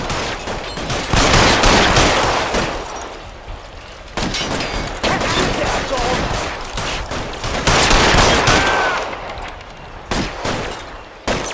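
Gunfire in L.A. Noire, loud bursts of rapid shots in several volleys separated by short pauses, sharp and close with echoing tails.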